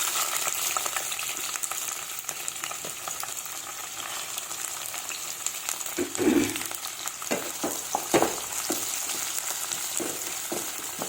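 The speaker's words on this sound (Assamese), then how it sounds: "এইখিনি তেল গৰম হ'ল এতিয়া ইয়াত পিঁয়াজখিনি দি দিম" Chopped onions and green chillies crackle in hot oil close by, a steady sizzle broken by a louder burst when they drop in, followed by scattered stirring knocks against the pan.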